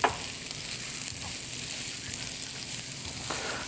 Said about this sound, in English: So we'll saute this till the onions brown a bit.